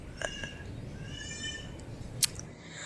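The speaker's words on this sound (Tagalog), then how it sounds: "Ayan yung pusa na. Ayan yung pusa." A cat makes short, faint meows at home, two quick calls and then a longer drawn-out one, followed by a brief sharp click against quiet room noise.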